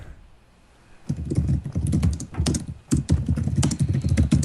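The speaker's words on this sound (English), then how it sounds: "Sounds go like some furious typing." Rapid, furious typing on a computer keyboard, close and crisp, a dense burst of clattering keystrokes with brief pauses, beginning after a second of quiet.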